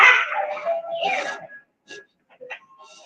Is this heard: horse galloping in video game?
no